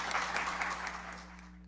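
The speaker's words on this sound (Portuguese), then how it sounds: "uma salva de palmas a elas" Brief, fairly faint applause for the panelists at a conference on overindebtedness, soft clapping over a steady electrical hum that fades out toward the end.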